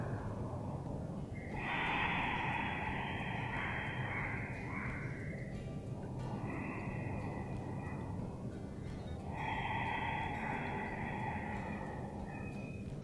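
Ujjayi yoga breathing made through a slightly constricted throat with the mouth closed: slow, soft breaths drawn in and out with a hushed, snore-like rasp, close and quiet, several long breaths with no talking.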